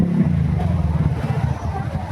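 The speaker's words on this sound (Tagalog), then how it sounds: "May motor pang pumapasok." A motorcycle engine putters nearby as the bike enters a busy fresh-food market, its low chugging pulse running steadily under talk and the general hubbub of the crowd.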